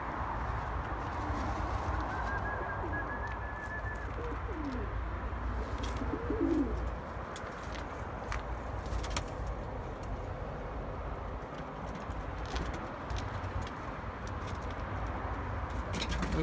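Tumbler pigeons in a coop with brooding birds on eggs coo softly and repeatedly amid steady indoor hum, with a few sharper clicks and flutters scattered throughout.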